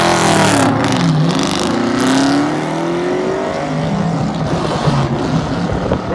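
Suzuki Hayabusa motorcycles at a street drag race roar loudly down the track, with engine pitch sweeping up through gear changes and a steady, dense motor drone throughout.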